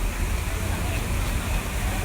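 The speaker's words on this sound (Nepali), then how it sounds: "झर्नाको पानी सुनिराख्नु भएको होला यहाँनिर" Waterfall water pours in a steady, broadband rush that fills the whole short stretch, moderately loud and unbroken.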